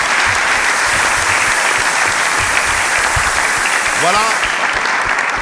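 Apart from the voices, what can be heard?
audience applause for the guests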